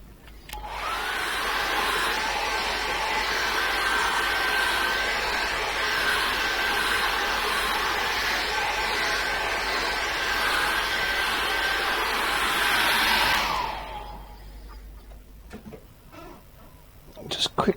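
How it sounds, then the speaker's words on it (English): A hairdryer blows steadily at close range with a constant whooshing whine for several seconds, then switches off, leaving near silence. "let's dry that off very quickly with a hairdryer."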